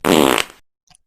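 A loud, close fart bursts out in a single rough, sputtering blast lasting under half a second, trailing off quickly, followed by a tiny faint pop after a short silence.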